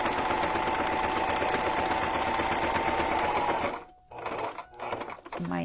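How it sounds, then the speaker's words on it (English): Sewing machine back stitching through a junk journal cover, a steady, loud mechanical whir for nearly four seconds that stops abruptly, followed by a few faint handling sounds. "I'm just doing a little back stitch at the beginning."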